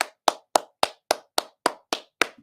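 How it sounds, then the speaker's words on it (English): Nine evenly spaced hand claps ring out one at a time, crisp and fairly close, in a slow steady rhythm with nothing else beneath them. "Everybody give her a hand,"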